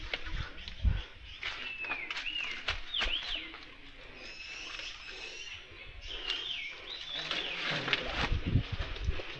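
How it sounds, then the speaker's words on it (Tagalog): Birds chirp and call noisily in a busy, overlapping chorus, with some whistling notes and a few low thumps underneath. "Yan naman nag-iingayan yung mga ibon."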